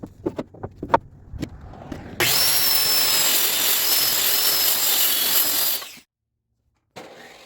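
A power saw rips wooden boards lengthwise into strips about 2.5 inches wide for a handmade table, a loud steady whine holding for several seconds and then cutting off sharply, with a few knocks before it and a short burst after.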